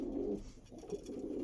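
A Star Kalanka pigeon coos softly and close by, a short low burbling call in two brief phrases.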